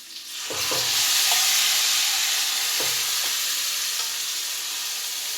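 Curry leaves drop into hot oil in a cooker and set off a loud, bright sizzle, with a few metallic scrapes of stirring, before settling into a steady hiss.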